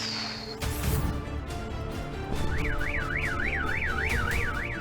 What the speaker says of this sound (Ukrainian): Сигналізація.